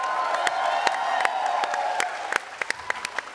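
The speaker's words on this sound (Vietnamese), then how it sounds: "Quý vị có thể vỗ tay cho anh thêm một lần nữa được không ạ?" An audience claps for a singer at a live televised show, with dense, loud applause and a few cheers at first. It thins into scattered individual claps toward the end.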